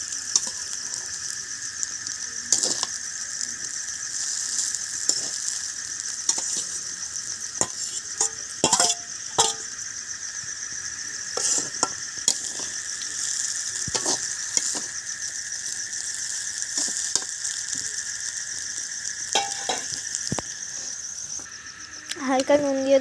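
Fried chowmein and vegetables stir-frying together in a pan, with a constant bright sizzle under frequent clacking strikes of a spatula against the pan, close and steady throughout.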